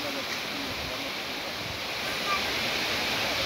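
The waterfall at Çağlayan in Erzincan gives off a steady, moderately faint broadband rush of falling water, continuous and even throughout.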